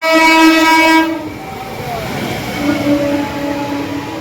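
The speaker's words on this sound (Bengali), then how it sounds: "আর কিছুক্ষণের মধ্যে চলে আসবে আমাদের কাটোয়া হাওড়া গ্যালোপিং লোকাল" The Katwa–Howrah galloping local train arrives at a station with a loud, sustained horn blast for about a second, followed by a heavy rumble and clatter of wheels and cars rolling in close by.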